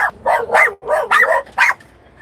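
A dog barks in a quick series of about five sharp, loud barks with short gaps, close by and with no talking over it.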